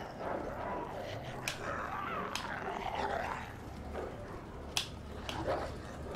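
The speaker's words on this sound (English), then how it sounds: "Pretty aggressive dogs here." Aggressive zombie dogs in Resident Evil 2 snarl and growl through a dense game soundscape, with a few sharp bursts standing out above the constant rumble of action.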